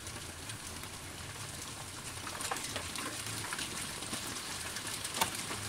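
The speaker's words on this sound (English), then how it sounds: "considering this is mainly hail" Hail falls steadily in a thunderstorm, a dense continuous patter that builds slightly halfway through and carries a few sharper close impacts, with no voices.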